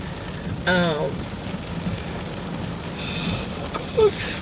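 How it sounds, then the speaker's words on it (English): Steady rain falls in a soft, even hiss that fills the background, with a brief murmur of a voice near the start. "Rain makes me so sleepy."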